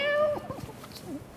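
A cat meows in a short rising-and-falling cry with a few softer follow-up mews, heard close and fairly clear over a faint background.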